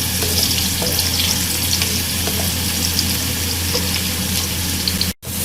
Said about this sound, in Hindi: हम यहाँ पे इसमें फ्राई कर रहे हैं ऑयल में